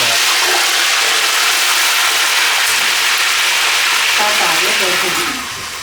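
Pork belly deep fries in hot oil with a loud, close, continuous hiss that eases off slightly at the end.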